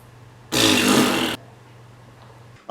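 A loud, broad fart sound effect lasts just under a second, breaking a quiet low hum, with another brief burst starting at the very end.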